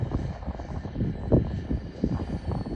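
An RC model Ryanair 737 Max airliner coming in to land with its landing gear down, giving a faint, steady whirring jet-like drone with small pulsing swells, heard from a distance and alone.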